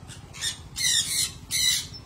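Birds in a large backyard cage let out loud, harsh squawks, several bursts in quick succession that are close and clear over a faint background hum.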